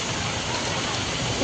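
Heavy, continuous monsoon downpour in Maharashtra, a dense, loud roar of rain on surfaces that stays steady throughout, with no speech.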